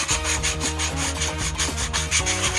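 Sandpaper rubbed by hand over a wooden birdhouse piece, a steady close scratchy rasp in quick back-and-forth strokes with no talking.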